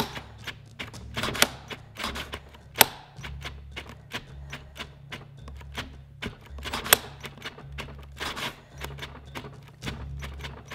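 A cordless drill trigger is clicked over and over to get past its thermal cutoff, giving a run of sharp, irregular clicks and short bursts close by over a low steady hum, with no talk.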